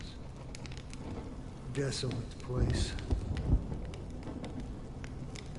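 Rain and rumbling thunder from a stormy scene in the video game Honkai: Star Rail, a steady wash of rainfall with low thunder rolls swelling near the middle, under a character speaking.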